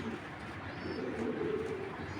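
Sapchila pigeons coo in a low, steady murmur that continues through the whole moment, close by and moderately loud, with no clear voice over it.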